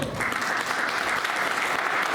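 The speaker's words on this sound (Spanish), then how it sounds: "denle un aplauso al Señor" A congregation applauding during a Sunday church service, a brief continuous burst of many hands clapping at once, even and moderately distant, with faint voices beneath.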